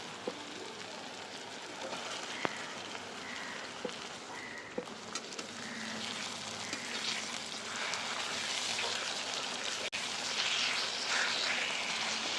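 Tomato, onion and fenugreek fry in a pan with a steady, close hiss of sizzling oil that swells louder toward the end, broken by a few faint clicks of stirring.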